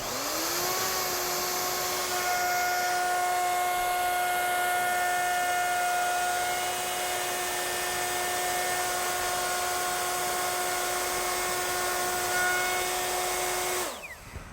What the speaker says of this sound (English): now we're ready to make the cut